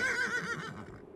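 A cartoon horse whinnies in a high, wavering neigh lasting about a second, loud and close, fading toward the end with no talk over it.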